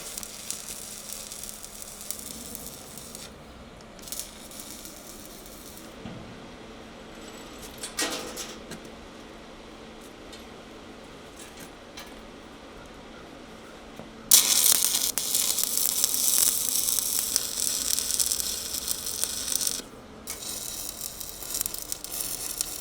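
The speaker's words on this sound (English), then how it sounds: "So I'm gonna go ahead and get this thing dried off a bit with the blowtorch" A blowtorch drying off a freshly welded steel winch mount on a logging trailer build, a steady hissing roar that starts partway through and runs loud until near the end, preceded by quieter workshop noises.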